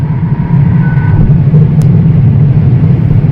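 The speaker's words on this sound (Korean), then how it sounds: "이 정도의 속도에서 이 정도의 풍질음은 뭐 어떻게 보면 당연한 일이 아닐까 싶기도 합니다." Steady broadband wind and road roar inside a Hyundai Nexo cruising at speed, a constant low rumble filling the cabin with no speech.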